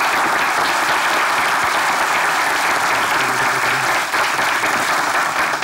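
A Turkish party general congress audience on a comedy stage show applauds loudly and continuously, a dense, even wash of clapping from a large crowd close up.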